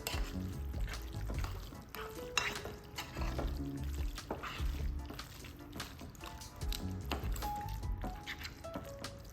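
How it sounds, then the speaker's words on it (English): Tuna salad is mixed in a bowl, giving soft, wet squishing and clinking spoon scrapes in a quiet kitchen. "Now we're gonna mix it all up together."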